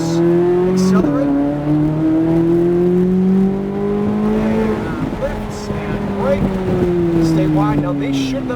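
A supercar's engine revs up hard on a track during a driving lesson, loud and close, pitch climbing through gear shifts, with tire noise and an instructor talking over it.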